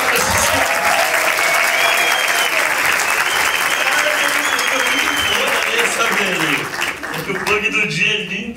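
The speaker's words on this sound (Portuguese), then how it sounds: "Recebam com muitos aplausos, Murilo Couto" An audience at a live comedy show gives a performer a loud round of applause that fills the whole stretch, with talking over the clapping as it tapers near the end.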